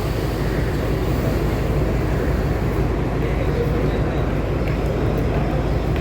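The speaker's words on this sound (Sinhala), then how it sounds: "ඒ දුම්රිය නැවතත් පිටත් වෙනවා. මෙන්න ඒ දුම්රිය පිටත් වෙලා දැන්" A train leaving a station rumbles with a steady, heavy low roar and wind buffeting, loud and continuous throughout without clear voices.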